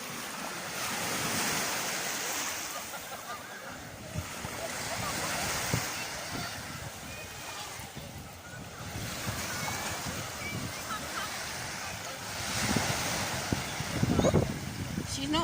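Ocean waves wash onto a beach in a steady broad surf roar, with swells building and breaking every few seconds and voices occasionally heard nearby.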